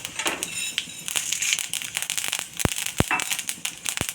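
Mustard seeds splutter and pop in hot oil with a little urad dal, crackling in irregular bursts and sharp snaps close by, the pops growing louder toward the end.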